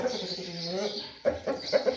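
A young Mayski rooster, around 4.2 kilos, gives short clucks and throaty calls close by, a few sharp notes near the end.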